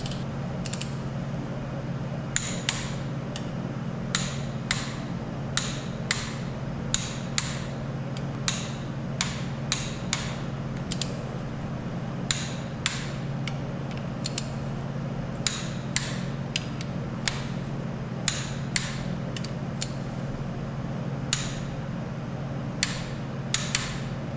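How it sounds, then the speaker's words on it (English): Bolts being torqued with a torque wrench on a Detroit Diesel Silver 4-53T engine, a series of sharp metallic clicks at uneven intervals over a steady low hum, close and alone. "Okay, 55 foot-pounds all torqued down."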